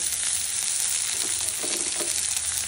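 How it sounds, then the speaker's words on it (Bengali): Sliced onion and slit green chillies sizzle and fry in a pan, a steady close crackle with a few spatters and no voices. "এইবার এই পর্যায়ে দিয়ে দেবো পেঁয়াজ আর এই কাঁচা লঙ্কা দুটো চিড়ে রেখেছি"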